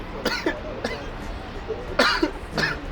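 Several short, sharp coughs in separate bursts after smoking cannabis, close to the listener, with a few quieter throat noises in between.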